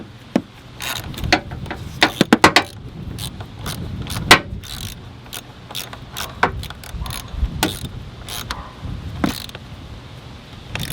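Ratcheting wrench tightening the negative battery terminal clamp on a 2015 Honda Civic, with many sharp close clicks in irregular bursts and metallic handling noise between them, no talking.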